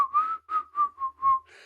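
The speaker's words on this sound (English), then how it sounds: "she's whistling a tune" A woman whistles a popular tune, a clear solo melody of five or six steady, close notes with no talk.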